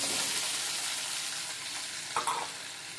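Bottle gourd pieces fry in a pan, a steady close sizzle with a brief stirring scrape near the end, and no talk.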